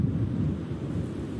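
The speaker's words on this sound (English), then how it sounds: "When the rains eventually come, they come down hard." Heavy rain pours down in a steady, dense roar with a low rumble of thunder underneath, continuous and enveloping with no voices.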